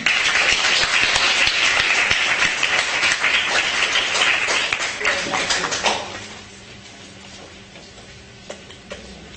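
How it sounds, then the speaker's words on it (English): Applause from delegates at a model UNESCO session after an amendment passes, a dense, fairly loud burst of clapping that carries for several seconds, then thins and fades out, leaving a quieter room with a few scattered sounds. "Clap is in order"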